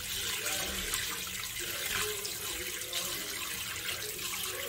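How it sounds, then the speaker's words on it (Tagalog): Tap water runs steadily into a sink while mung beans are washed, a continuous close splashing rush with slight shifts as the water strikes the beans and basin. "Hugasan natin yung munggo."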